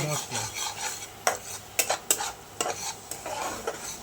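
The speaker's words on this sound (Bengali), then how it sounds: "একটু ফ্লেমটা যাতে কাঁচা গন্ধটা না থাকে আদার মশলা" Ginger spice paste is stir-fried in a pan over a raised flame for a rohu fish and cauliflower curry. Close spatula scrapes and taps sound over a steady sizzle, with no talking.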